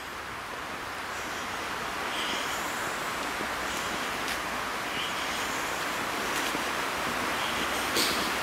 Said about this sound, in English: You could probably hear the river flowing a little bit in the background there.